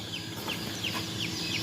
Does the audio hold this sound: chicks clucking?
yes